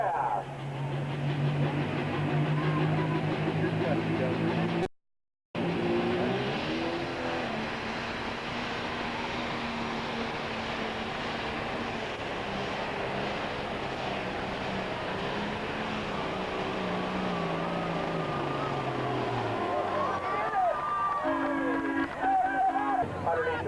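A loud, sustained Pro Stock pulling tractor engine roar runs almost throughout at a truck and tractor pull, rising and straining with a brief cutout near the start, crowd noise faint beneath.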